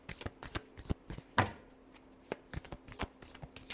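Tarot cards shuffled by hand, a close run of quick papery riffles and soft taps, with one sharper snap near the middle.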